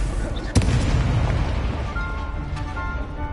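Confringo blasting spell explosion in the Hogwarts Legacy game, a sudden sharp blast followed by a rumbling boom that fades into crackling debris.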